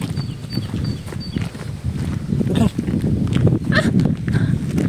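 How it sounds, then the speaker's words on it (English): A horse in a small French village clip-clops along nearby, its hoof steps irregular beneath people chatting and exclaiming over it. "Oh, there's a horse there."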